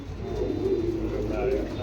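Racing pigeons coo softly in a low, continuous murmur that runs steadily throughout, with a rumbling background underneath.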